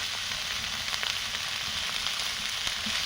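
Spice paste for a bhola fish curry sizzles in oil in a pan, a close, steady frying hiss with small crackles running the whole time.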